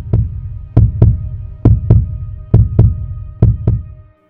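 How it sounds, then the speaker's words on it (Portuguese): A heartbeat sound effect throbs in paired lub-dub beats, four double pulses in a steady rhythm, deep and loud and close, with a faint hum underneath and no voices. "Lá no fundo, um batimento cardíaco começou a soar"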